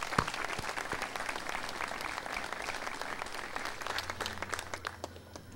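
A crowd at the Pinellas Trail 20th anniversary celebration gives the auxiliary rangers a steady, full round of applause. Dense clapping runs throughout and eases slightly near the end, where a low hum rises underneath.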